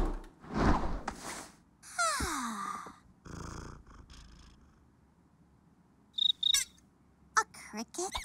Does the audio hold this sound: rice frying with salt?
no